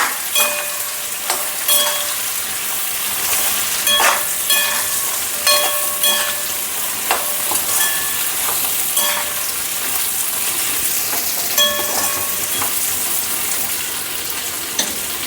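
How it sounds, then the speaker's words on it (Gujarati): Okra fried in hot oil for a Gujarati bhindi shaak crackles in a loud, continuous sizzle, broken by repeated clinks and scrapes of a spoon stirring against the pan at an uneven pace, close up and without talk. "હવે આપણે તેમાં ભીંડા નાખી દઈશું આ રીતે બરાબર મિક્સ કરી લઈશું તેલમાં"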